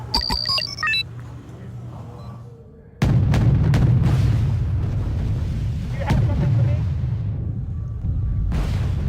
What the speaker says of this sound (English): Auto cannon fire.